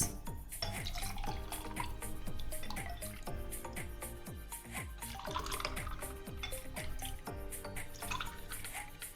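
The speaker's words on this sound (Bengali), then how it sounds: "এবার আমি এর মধ্যে দিয়ে দেবো তরমুজের জুস।" Watermelon juice poured into a glass, making a soft, continuous liquid trickle with repeated small gurgling drops, close by and quiet.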